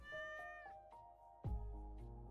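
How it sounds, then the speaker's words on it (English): A cat meows in the video game Stardew Valley, a few clear, close tonal calls in quick succession with no talking over them. "Well, little Radagast, you'd be a good kitty now, okay?"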